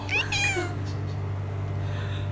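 A cat gives a single short, high meow close up, followed by a low steady background hum.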